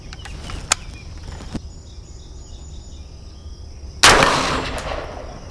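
A 5.56/.223 rifle fires at steel targets on a hillside: two sharp, distant cracks, then a louder, nearer report with a ringing decay, all over a faint outdoor background of insects.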